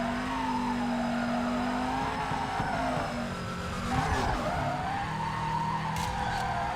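Car tires skid and squeal through a long drift in the racing game FURIDASHI Drift Cyber Sport, over a constant loud engine drone, with the tire noise rising and wavering.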